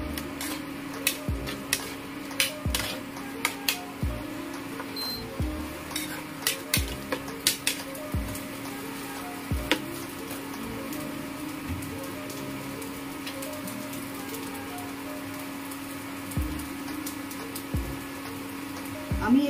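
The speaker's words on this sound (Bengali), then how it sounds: "আমার এই বাকি সবজিগুলো অলমোস্ট ভাজা ভাজা হয়ে এসছে।" Mixed vegetables and green chillies frying in a pan for chire pulao give a steady sizzle with repeated sharp clinks and scrapes of a spatula against the pan, moderately close, no talking.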